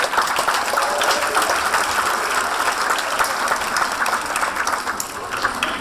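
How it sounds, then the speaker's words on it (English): A school audience at a literature festival in Berlin breaks into loud, sustained applause, many hands clapping densely and evenly from start to finish, with no clear speech over it. "You should get a round of applause for literary knowledge."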